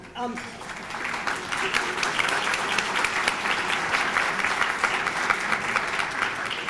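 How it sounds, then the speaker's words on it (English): An audience at a benefit event breaks into applause, a dense, steady wash of clapping that carries on evenly for several seconds, with some voices mixed in. "If you would join me in giving them a round of applause."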